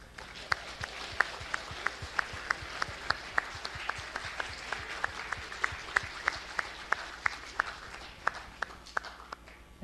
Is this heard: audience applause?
yes